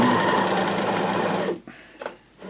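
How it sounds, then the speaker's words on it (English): A Juki sewing machine stitches at a steady, fast whirring pace, loud and close, then stops abruptly partway through, leaving a few quiet clicks and small mechanical sounds. "So as I start sewing,"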